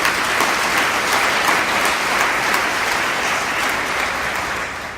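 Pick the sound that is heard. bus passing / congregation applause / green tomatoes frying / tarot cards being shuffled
congregation applause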